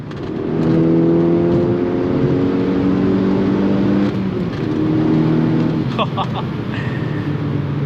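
A turbocharged Volkswagen MK6 Golf R engine with full bolt-ons revs loudly with a steady, droning pitch that rises and holds, close by, with a few higher whines and clicks near the end.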